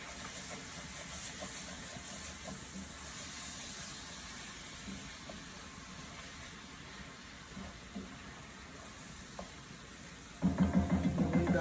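Corn fries in butter in a pan with a soft, steady sizzle and hiss throughout, and a louder clattering burst at the very end.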